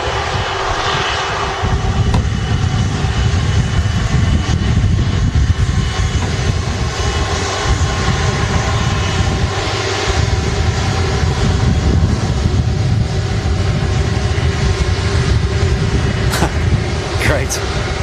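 A loud, sustained jet engine roar comes from an Air Tanker Airbus A330 in Jet2 stickers arriving at Manchester Airport, with a steady broadband rumble throughout. People talk over it at intervals.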